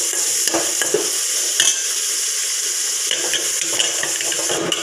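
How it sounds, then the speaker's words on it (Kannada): A spoon stirs boiling Mangalore southekayi (cucumber) sambar with tomato in a pot. Steady bubbling and sizzling runs throughout, with a few soft scraping clinks against the pot and no talking. "ಈಗ ಚೆನ್ನಾಗಿ ಮಿಕ್ಸ್ ಮಾಡ್ಕೊಳ್ಳಿ"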